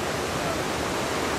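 Flowing water of the Otra river near the town of Otta, a steady broadband rush with no breaks, close and moderately loud.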